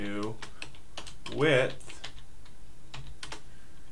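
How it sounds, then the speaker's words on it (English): Typing on a computer keyboard while writing code, a rapid run of light clicks heard under a man's speech. "this is called typing"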